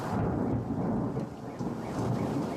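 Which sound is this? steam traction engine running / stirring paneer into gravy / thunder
thunder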